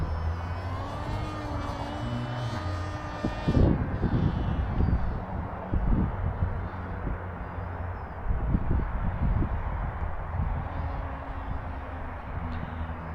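A small FT Explorer RC model airplane flies on a windy day over 10 mph, its electric motor giving a whining drone that shifts in pitch, mixed with gusty wind buffeting the microphone.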